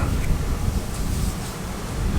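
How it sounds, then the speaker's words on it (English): Steady wind buffeting a microphone, a broad continuous rumble and hiss with no talking, lasting throughout. "I think it's too windy to do that right now"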